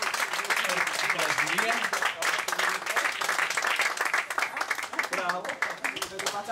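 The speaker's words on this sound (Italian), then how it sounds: "Pronti, Valeria, un applauso." Audience applause at an Italian live comedy evening, steady dense clapping throughout with a voice speaking over it and music-like tones mixed in.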